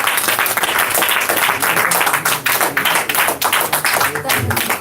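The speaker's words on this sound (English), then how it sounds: "Come on, y'all can clap better than that." A church congregation claps loudly and continuously, many sharp hand claps packed closely together in a dense, slightly rhythmic patter with occasional heavier thumps, heard close up for the whole stretch.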